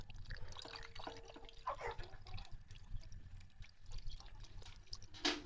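Diesel fuel poured into the tank of a DMTZ 254V tractor during a fuel-consumption check after ploughing, a soft, uneven liquid trickle and splash that comes in small bursts, close up, with no talk.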